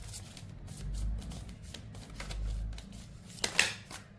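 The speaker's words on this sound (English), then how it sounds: "And I'll give it one more shuffle." Tarot cards are being shuffled by hand, a soft papery riffling that comes in repeated bursts with a sharper flutter near the end, close and fairly quiet.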